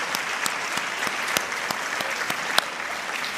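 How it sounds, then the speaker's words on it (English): An audience at a teacher of the year celebration gives a round of applause, steady crowd clapping with a few sharper individual claps standing out near and loud, no speech on top. "Let's give Mr. Walker and his team a round of applause"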